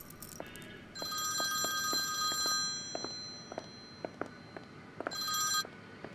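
A telephone rings in a scene from a Turkish TV drama dubbed into Persian, sounding in repeated bursts of bright electronic trills separated by short pauses, with faint clicks and movement in a quiet room and no talking.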